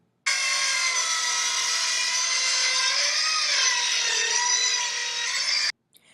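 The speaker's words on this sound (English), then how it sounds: "so we can finish sawing our new victim" A continuous bright, rasping saw grinds steadily for about five seconds, then stops abruptly.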